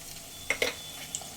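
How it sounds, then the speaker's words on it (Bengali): Ginger-garlic paste sizzles in hot oil with fried onions while being stirred for mutton trotter nehari: a low, steady frying hiss broken by a few short scraping stir sounds, fairly quiet and close. "ভাজা পেঁয়াজের মধ্যে দিয়ে দেবো দুই টেবিল চামচ আদা রসুন বাটা"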